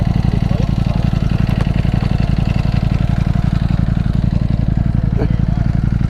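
A Ducati V4 Panigale motorcycle engine idles with a steady, close, rapid low-pitched pulsing throb that runs unbroken throughout.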